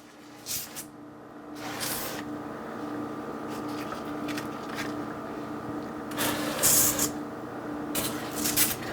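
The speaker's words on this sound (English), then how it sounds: "I want to spray the tops of these with a little bit of avocado oil spray" Several short hissing bursts of avocado oil spray onto bagel tops, some brief and some longer, come at close range over a low steady background hum.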